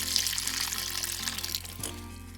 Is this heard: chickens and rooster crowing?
no